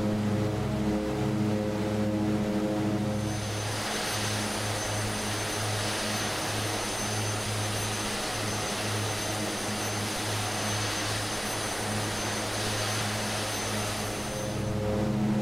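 Twin Otter turboprop engines cruising at about 150 knots in Microsoft Flight Simulator, a steady loud droning hum with layered tonal whine and broad rushing wind noise that holds constant throughout, no talking.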